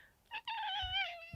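A chunky, thick-set shelter cat, once a stray, lets out a short chirp and then one long, loud, drawn-out meow close up, sliding downward in pitch as it fades.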